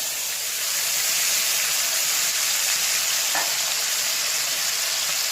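Dry red chillies, whole cumin, ginger-garlic paste and onion sizzle loudly in hot tempering oil, a steady bright frying hiss that holds evenly from start to finish with no talk.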